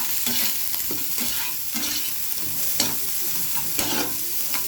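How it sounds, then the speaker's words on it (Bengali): Onion and capsicum stir-fried in a pan for chili soyabean, with steady sizzling and repeated scraping stirs at close range, no talk. "দিয়ে পেঁয়াজ আর ক্যাপসিকামটা দিয়ে দেবো, দিয়ে নাড়বো।"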